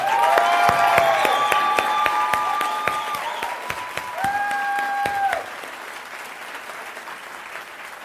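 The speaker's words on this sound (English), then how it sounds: "Please give him a big round of applause." Audience applause rings out for an actor who plays Pastor Martin in Sound of Hope, loud and sustained crowd clapping over about five seconds with faint musical tones, then dropping to a quieter room tail.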